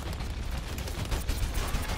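Rapid gunfire from a D.Va mech in a competitive Overwatch match, a dense continuous stream of close, loud shots with game effects mixed in.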